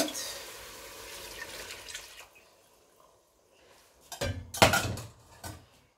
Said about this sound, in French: Et là, je vais rajouter l'eau de ma viande